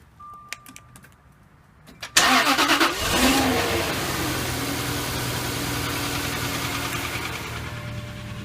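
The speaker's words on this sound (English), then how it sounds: "So here this engine, it's a normal V8 engine right now." A V8 car engine cranks and fires after a few light clicks, then settles into a loud, steady close-up idle that runs on alone.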